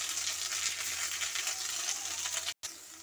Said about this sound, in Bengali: আমি পাতাটাকে আমি এবার ভেজে নেব অল্প তেল দিয়ে